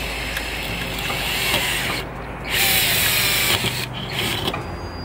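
A power drill whirs in bursts while drilling a hole in a motorhome for an exterior awning light, its motor pitch shifting as it bites, with two short pauses between runs; close and loud.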